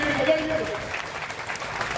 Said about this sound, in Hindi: जरा जोरदार ताली उस लड़ाई के लिए बजाइए।